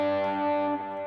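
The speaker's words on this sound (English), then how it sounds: "That is a simple 2-note chord." Electric guitar sounding a simple two-note chord through delay, reverb and distortion effects, a single sustained ringing chord that shifts slightly near the end, close and fairly loud.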